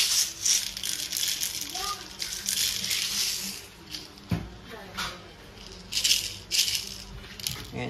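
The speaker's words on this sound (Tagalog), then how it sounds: "kung gagamit kayo ng speed loader, ito yung speed loader" BB pellets rattle as they are poured into a Crosman airgun speed loader, giving bursts of bright, close clinking over roughly eight seconds.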